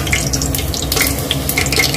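Cumin seeds sizzle in hot oil for a thali with jackfruit curry: a steady, close hiss with scattered crackling pops throughout, and no voices.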